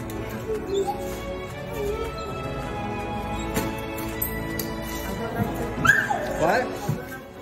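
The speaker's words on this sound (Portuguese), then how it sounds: "ela finalmente vai levar sua cachorra Mia para casa" A dog whimpers and whines in high, thin squeaks, fairly faint beneath a speaking voice and steady background noise.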